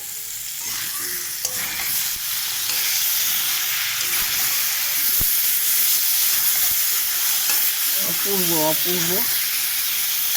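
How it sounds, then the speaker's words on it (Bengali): Spices frying with salt and turmeric in a pan, a steady loud sizzle and hiss throughout, with occasional stirring scrapes; a voice briefly speaks near the end. "খুব সুন্দর লাল লাল করে ভাজা হয়ে যাচ্ছে"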